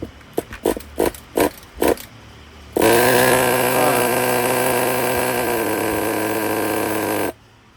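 Traxxas Pro .15 nitro RC car engine turning over with a few short bursts from the starter, then catching and running loudly at a steady, buzzy idle for several seconds before cutting off abruptly.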